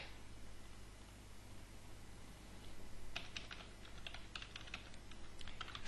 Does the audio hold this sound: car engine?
no